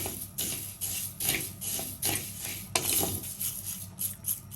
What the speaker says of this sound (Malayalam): ഉലുവ കൂടെ ചേർത്തിട്ട് ഒന്ന് മൂപ്പിക്കാം